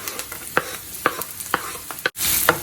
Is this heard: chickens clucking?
no